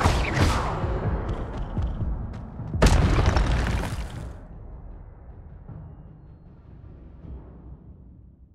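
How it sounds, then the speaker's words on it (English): Incendio fire spell cast in the video game Hogwarts Legacy, a burst of fiery game effects with a loud whooshing boom near the three-second mark, preceded by other crackling combat sounds and fading to a low rumble. "How close range is the incendio?"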